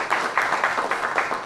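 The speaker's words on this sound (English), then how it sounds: "Can I hear a little bit of more applause?" Scattered audience applause at a film festival animation panel, a few bursts of clapping rising and falling at moderate distance over a short stretch.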